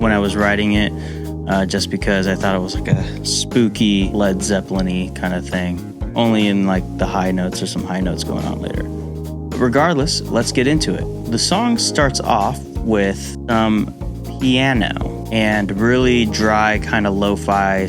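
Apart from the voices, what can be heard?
No everyday noise stands out behind the speech.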